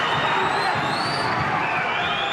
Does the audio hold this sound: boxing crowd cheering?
yes